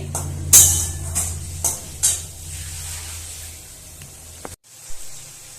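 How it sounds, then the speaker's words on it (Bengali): Spices are stir-fried in a pan with a little water for a country magur catfish curry, with several sharp utensil scrapes over a steady close sizzle that cuts off abruptly near the end before a final clink. "আবারও ভালোভাবে কষিয়ে নিচ্ছি"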